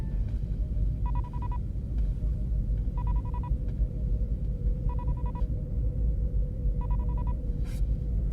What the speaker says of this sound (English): did you ever notice the constant ambient engine noise when they're in the ship?